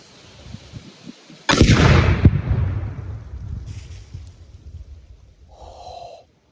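A one-pound Tannerite charge packed in pork butt detonates with a single loud, sharp blast followed by a long rolling boom that fades over several seconds, heard from a distance outdoors.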